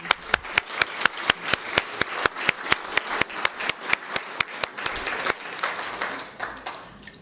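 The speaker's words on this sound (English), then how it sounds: "I'd like to give one more round of applause and thank our panelists for today." An audience at an international law and religion symposium plenary session applauds its panelists with sharp, distinct claps in a steady rhythm that thickens into a broader wash of clapping before fading.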